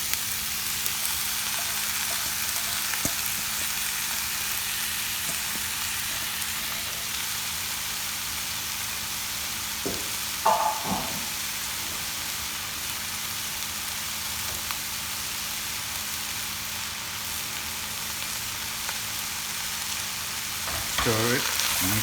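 Squeezed spinach frying with onion in a hot pan for saag paneer, a steady loud sizzle throughout with occasional soft knocks of a stirring spoon, no talking.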